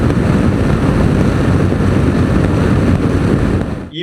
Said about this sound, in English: even at 70, the wind's beating on you consistently for 16 hours straight